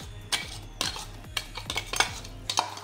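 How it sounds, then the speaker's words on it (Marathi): A spoon clinks and scrapes against a bowl in a few quick, uneven taps while scooping thick chutney, close by, with light kitchen clatter between them. "ती आपण आता या भांड्यात काढून घेऊया"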